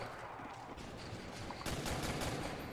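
Gunfire in Call of Duty Zombies on the Nacht der Untoten map, a dense, continuous rattle that grows louder and harsher about halfway through, with no voices.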